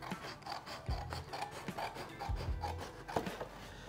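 Scissors cutting long cardboard strips for a papier-mâché devil mask, giving a steady rough scraping and rasping close by with a few soft thumps.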